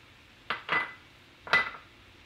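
Bacon and sausage go into a pan of cabbage, making two short clattering metal clanks about a second apart, close and fairly quiet, with silence between and no talk.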